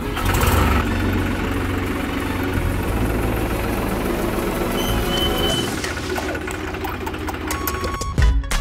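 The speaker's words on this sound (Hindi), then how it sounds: "तो भाई ट्रैक्टर ने पहले फटाफट चालू कर देते हैं" A tractor engine runs at a steady, loud idle, a dense low rumble with a continuous mechanical knock, then shifts and fades near the end with a brief clatter.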